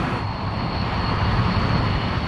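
An old airplane's engines roar steadily as it takes off in the Democratic Republic of Congo, a dense, continuous drone with no talk over it.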